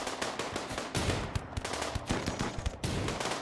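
Gunfire in a RimWorld battle, including revolver shots, rattles in dense overlapping bursts that sound like rapid automatic fire and continue without a break.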